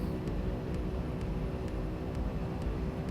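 Beechcraft Duke twin-engine aircraft taking off in a flight simulator game, a steady loud engine drone with a constant hum and faint periodic ticks, no voices.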